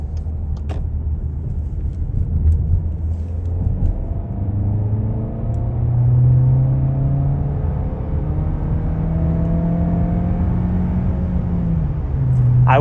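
A 2024 Volkswagen Passat R-Line wagon with a 1.5 TSI mild-hybrid engine and DSG transmission holds third gear, its steady engine drone and road rumble rising slowly in pitch, heard from inside the cabin without talk.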